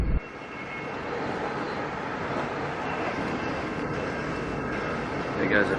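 A tram runs alongside a moving train, heard from inside the carriage as a steady, loud rumble and roar throughout with no pauses.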